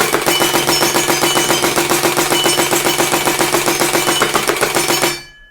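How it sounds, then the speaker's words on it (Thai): An M4A1 toy gun fires a continuous rapid burst of shots in a fast even rattle, loud and close, running about five seconds before cutting off abruptly. "มายิงให้ดูนิดหนึ่งนะครับ ระยะยิงเนี่ย12 เมตรได้เลยนะ"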